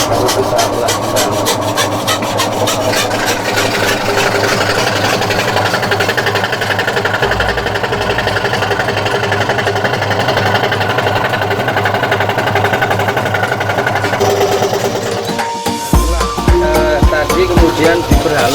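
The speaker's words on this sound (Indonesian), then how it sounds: "diperhalus pakai gerinda seperti ini, jadi nantinya hasilnya akan kita perhalus pakai gerinda seperti ini" An angle grinder smooths a coconut shell, a loud, continuous whine and rasp from close by that runs steadily before shifting pitch near the end as the disc bites differently into the shell.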